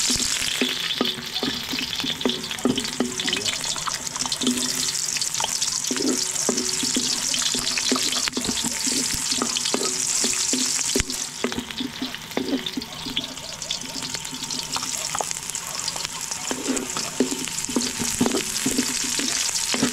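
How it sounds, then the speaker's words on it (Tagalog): Garlic sautéing in a hot pan with potatoes, a steady broad sizzle with frequent stirring clatters running the whole time, close and fairly loud, with no talk. "Gisa tayo ng bawang."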